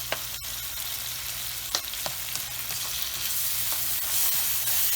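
Chicken mince frying with tomatoes and spices over high heat sizzles steadily in a pan, punctuated by occasional scraping and stirring clicks, close and continuous with no talking.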